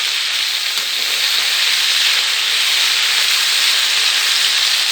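Pointed gourd (potol) pieces, salted, fry in a pan with a steady, dense sizzle and hiss that holds even and loud throughout, with no talk.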